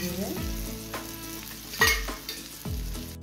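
Fish frying crisp in oil over a low gas flame, a steady close sizzle broken by a few soft thumps and scrapes as the pieces are stirred.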